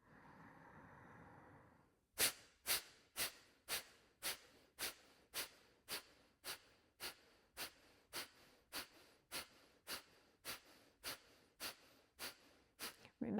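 A quiet inhale, then a rapid series of about twenty sharp, forceful exhales through the nose in a steady rhythm, close and clear, from a yoga breathing exercise with emphasised exhales.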